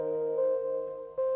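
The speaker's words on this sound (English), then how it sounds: "So it's a crunchy key patch with some noise." Crunchy key patch with added noise on a Novation Peak synth, sustained tonal notes with soft re-struck attacks, quiet and alone.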